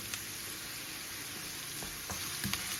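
Onion frying lightly in a pan, a steady soft sizzle throughout with a few faint clinks and stirring sounds near the end.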